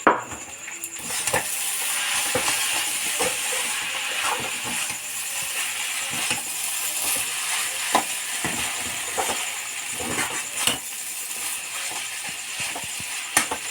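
Noodles being stirred in a pan with tomato sauce over a gas flame, a steady broadband scraping and sizzling texture with frequent small clicks and knocks of the utensil against the pan, close and continuous throughout.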